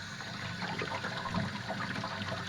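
Water trickles and washes steadily through a filter carrying homemade sulfur, a soft continuous pouring and dribbling sound at low volume without pauses.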